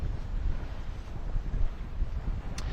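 Wind roars across the microphone aboard a sailboat, a loud continuous rumble that gusts and buffets throughout, with no voices heard.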